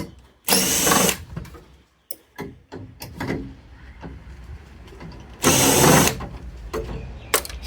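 A power drill backs screws out of a Rheem water heater being scrapped, sounding as two loud whirring bursts with ratcheting clicks, knocks and handling noises between them, close up, with no talk.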